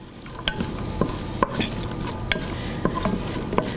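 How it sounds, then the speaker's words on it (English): Diced red onion stirred and sautéed in a hot pan, with a continuous sizzle under periodic clacks of a utensil scraping and knocking against the pan, close and clear. "We're going to move the onion around"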